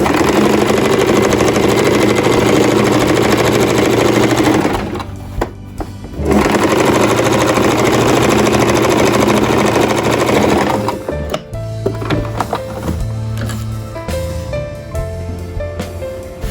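A sewing machine stitches a belted shalwar with a loud, steady close-up whirring hum, pausing briefly near the middle before running again, then slowing into uneven bursts toward the end.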